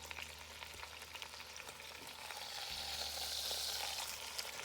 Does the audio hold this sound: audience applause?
no